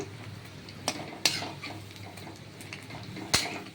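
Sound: flipping frying onion pakoras in pan

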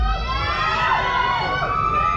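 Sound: girls in crowd screaming for dance contestant

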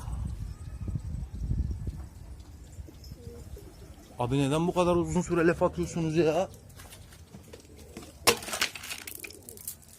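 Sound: pigeons cooing, Çakşırlı and red silver breeds

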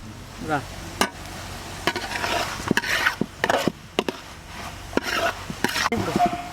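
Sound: stirring a pot of curry

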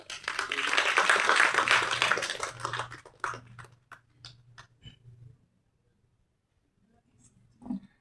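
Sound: audience applause

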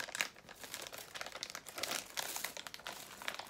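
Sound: opening plastic packaging of individually wrapped marshmallows

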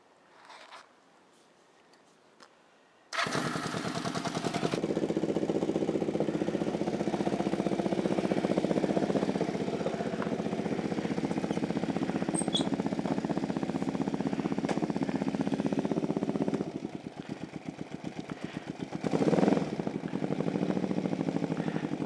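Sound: motorcycle engine starting and idling

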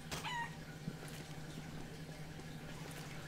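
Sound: chicken clucking in video game Counter-Strike: Global Offensive

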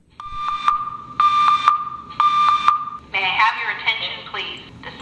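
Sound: building fire alarm sounding

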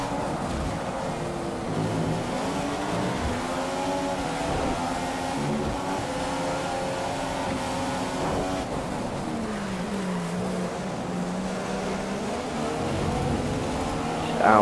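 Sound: racing cars in the video game F1 2015

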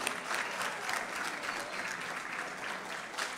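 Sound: audience applause

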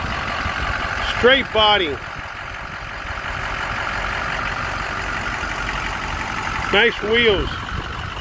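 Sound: 2005 Ford F-350 utility truck engine running

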